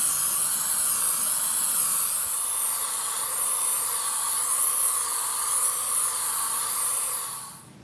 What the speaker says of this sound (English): so I'm ready to start spraying them